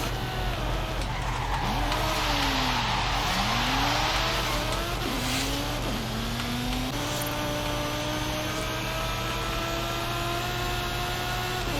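A Mitsubishi Evo 9 in Forza Horizon 5 revs hard through the gears, its engine note climbing and dropping with each shift, while tires squeal and skid in steady close-up driving.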